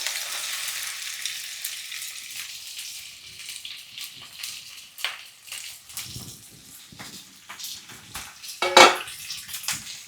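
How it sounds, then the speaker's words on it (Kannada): Chopped okra (lady's fingers) frying in hot oil: a broad hissing sizzle with irregular bursts of stirring and crackle, one bright metallic clink near the end, close and fairly loud, no speech. "ಬೆಂಡೆಕಾಯಿನ ಹುರ್ಕೋಬೇಕು"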